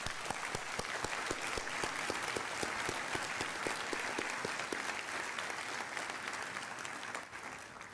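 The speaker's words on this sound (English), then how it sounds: "Let's give him one more round of applause." Sustained audience applause fills a graduation ceremony, a dense, steady wash of many hands clapping with a few louder claps near the front, fading slightly toward the end.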